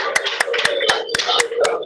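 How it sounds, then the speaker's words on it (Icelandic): Hands clap in quick, even rhythm in a TV studio, several people applauding close by while a voice talks over the claps. "við klöppum hérna."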